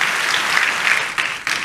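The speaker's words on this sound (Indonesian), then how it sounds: "Tepuk tangan yang paling meriah buat Tuhan." A church congregation bursts into loud, dense applause during a worship service, steady and close throughout with a couple of brief surges near the end.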